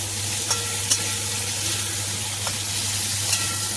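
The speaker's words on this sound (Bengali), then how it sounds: "মাছটা একবার উল্টে দিই" Prawns sizzle steadily in hot oil in a wok, a continuous close frying hiss broken by a few light clicks as the pieces are flipped.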